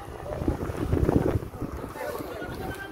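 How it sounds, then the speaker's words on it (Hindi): Strong, gusty storm-like wind at Talsari beach buffets the microphone in a steady roar that surges and eases, with faint voices mixed underneath. "चारों तरफ से ऐसा धुआंधार तूफान जैसा हवा चल रहा है"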